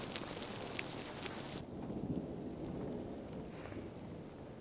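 Rain falls with thunder at night, a faint, continuous wash of rainfall with low rumbling underneath that shifts partway through, distant and soft with no talking.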